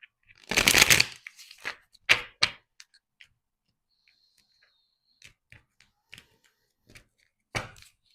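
Tarot cards being shuffled for bonus cards: a close, crisp riffle burst followed by several shorter flicks and scattered light card taps against a quiet background.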